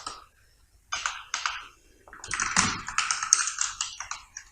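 Keys on a computer keyboard clatter in quick bursts as HTML is typed into a WordPress PHP page file. The taps sound close and crisp, with short pauses between runs and no voices.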